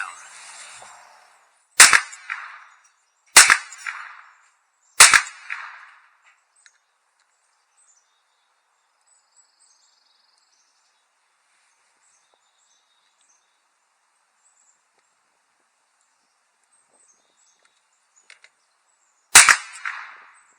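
Sharp pistol gunshots ring out at a range while an Osight X red dot sight is zeroed: three evenly spaced loud cracks, a long quiet gap, then one faint pop and a final crack.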